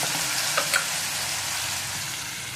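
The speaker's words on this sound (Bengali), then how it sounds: "দিয়ে এটাকে আমি নাড়াচাড়া করে ভেজে দিচ্ছি" Ground spice paste and turmeric powder sizzling in oil in a curry pot, a steady bright crackling fry with a couple of quick spoon scrapes early on, close and loud.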